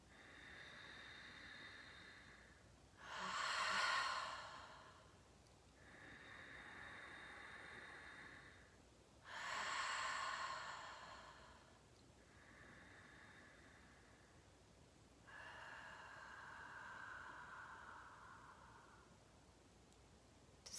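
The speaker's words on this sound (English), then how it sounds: "take 3 deep breaths with me now" Three slow, deep breaths taken during a guided meditation, each a soft airy inhale-exhale swell separated by quiet pauses, close and gentle against a faint hiss.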